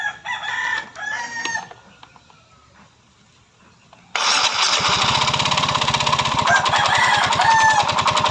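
A Yamaha Mio Soul i 125 scooter engine with its pulley set removed, suspected of a connecting rod fault, stays quiet at first, then starts abruptly and runs loud with a rough, rapid, rhythmic knocking idle up close.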